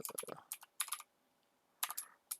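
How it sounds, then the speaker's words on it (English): Computer keyboard typing in a quiet room, with short bursts of crisp, close key clicks separated by brief pauses. "So I'm typing in like what I like to do"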